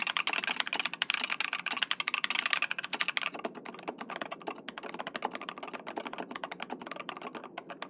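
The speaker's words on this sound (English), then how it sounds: "this is our clackiest, rattliest keyboard that we have" Rapid, clattery keystrokes on a mechanical keyboard, bright and rattly at first, then continuing in a slightly duller, uneven rhythm.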